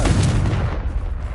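A Confringo fire spell blast in the video game Hogwarts Legacy, a loud, booming fiery burst that rumbles continuously through the short moment with no pause.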